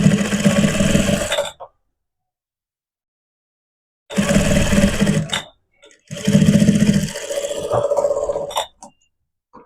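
Sewing machine stitching velvet fabric for socks, running in three close, loud bursts of steady mechanical whirring separated by short silences.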